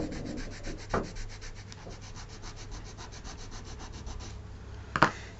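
A small hand file rasps across wood to fit a joint during log house construction: a steady, close scraping with faint repeated strokes and a couple of sharper knocks near the start and end.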